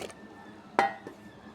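Pieces of peeled bottle gourd, cut into large chunks, drop into dal in a cooking pot with a single sharp splash and clatter, followed by a fainter knock a moment later in an otherwise quiet kitchen.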